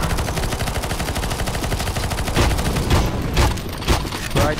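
Sustained rapid gunfire from a CS:GO zombie escape match on the ze_ffxii_paramina_rift map, dense continuous automatic shooting throughout with louder heavy bursts toward the end, close and loud.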